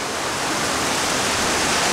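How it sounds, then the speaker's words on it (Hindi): Glacier meltwater rushes down a mountain stream, a loud, steady broadband roar of water close at hand with no pauses. "ये ग्लेशियर का पानी है जी, ऊपर से आ रहा है, बहुत ऊपर से"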